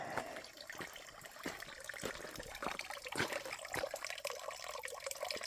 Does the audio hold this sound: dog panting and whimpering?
no